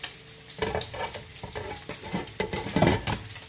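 Beef cooking in a pot for tacos, with stirring scrapes and a bubbling sizzle as it comes up to a boil, close and moderately loud, with irregular clattering bursts throughout.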